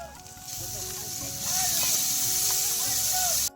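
Ginger paste hits hot oil with turmeric and chili powder in a pan, giving a loud, steady sizzle that swells midway and then cuts off abruptly, heard up close.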